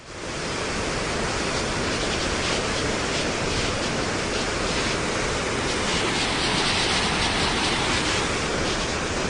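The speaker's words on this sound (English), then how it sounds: "You might hear the waterfall behind me." The Dynjandi waterfall in Iceland roars as a steady, loud, broadband rush of falling water, unbroken for the whole stretch with no voices.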